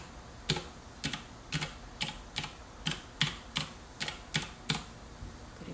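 Buttons on a lit keypad are pressed one after another, about ten crisp plastic clicks in an even, steady rhythm, close and clear with no talking.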